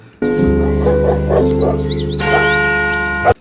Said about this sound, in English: if we put the dog barking up, and we put the church bells up like this